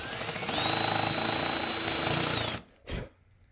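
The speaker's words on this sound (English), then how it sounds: "End mills are not really intended for side drilling, but it's possible, as you can see." An end mill bores sideways into guitar-building wood, a loud, steady high-pitched machine whine grinding for about two and a half seconds before cutting off, then a short thud and quiet.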